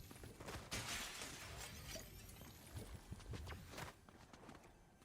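Glass shattering in a video game, a scattered run of sharp crunching and tinkling impacts, fairly faint and busy, fading toward the end.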